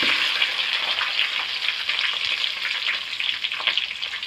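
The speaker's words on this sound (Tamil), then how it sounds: "அதுக்கப்புறம் வெங்காயம் போட்டு பூண்டு போட்டு வதக்குவோம்" Onion and garlic sauté in a hot pan, giving a steady, close hiss of sizzling oil with light stirring scrapes. The sound is continuous and no one speaks.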